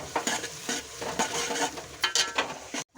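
Onion masala with ginger-garlic paste is stirred and sautéed in a pan, a soft sizzle under repeated scraping spoon strokes, close and fairly quiet, no voices.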